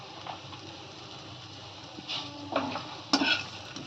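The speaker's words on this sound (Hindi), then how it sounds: "और इसे अच्छे से मिक्स कर दीजिए।" Fasting-style jeera potatoes made with fasting salt and coriander are stirred in a pan, giving a few scraping clinks of spoon on metal over a faint background sizzle.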